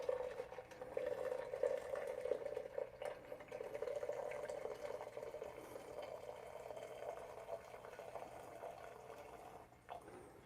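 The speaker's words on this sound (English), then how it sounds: "put the hot water inside" Hot water pours steadily into the boiler of a Bellman CX-25P stovetop espresso maker, a soft continuous liquid fill that tapers off toward the end, close and fairly quiet with no talk.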